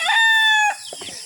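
A rooster crows loudly and close by in one long, steady call on a farm, then breaks off into a few softer clucks of chickens.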